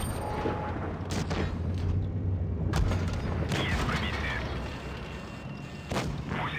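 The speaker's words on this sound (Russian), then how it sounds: "Так, сбили нам гусеницу" Heavy booms and cannon shots ring out in a WoT Blitz battle while driving a Maus super-heavy tank as a track is shot off, several loud blasts over steady engine rumble.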